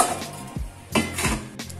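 Metal pots clank and scrape as they are handled, with a few distinct knocks and ringing clatters close by.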